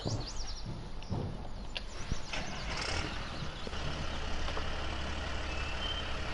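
Tractor engine running in the Farming Simulator 19 farming game, a steady low drone throughout with a high reversing-style beep and bird chirps over it.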